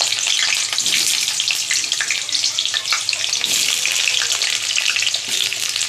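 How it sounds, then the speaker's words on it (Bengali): Potatoes frying in mustard oil in a pan, a loud, dense, continuous sizzle up close with occasional faint scrapes, no voices. "এই তেলের মধ্যেই আলুগুলো ভেজে নেব"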